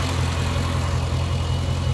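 A Dodge Hemi 6.4 V8 with 31,000 miles idles normally, a steady low rumble with an even, throbbing pulse, close and continuous with no voices over it.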